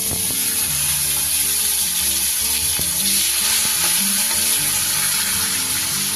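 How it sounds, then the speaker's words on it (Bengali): Dry red chilli, a bay leaf, whole garam masala and cumin crackle in hot oil for a Bengali green banana dish, a steady close sizzle running throughout with faint stirring and no talk. "এবার এই তেলেই আমি দিয়ে দেব কিছু ফোড়ন। একটা শুকনো লঙ্কা, একটা তেজপাতা, একটু গোটা গরম মশলা আর একটু জিরে।"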